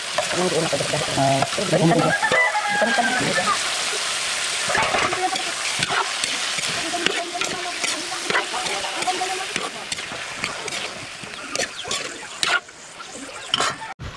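Squid cooking in a pan with fish heads at a home catch-and-cook, a steady sizzling fry with scraping stirring strokes throughout, close and fairly loud, with some faint voices.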